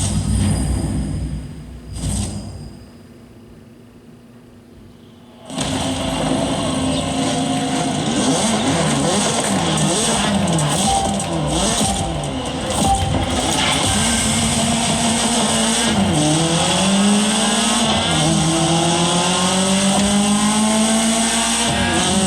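BMW M3 racing in The Crew Motorfest video game, engine note rising and falling through gear changes with steady revving and brief tire squeal, loud and continuous after a quiet opening few seconds, no talk.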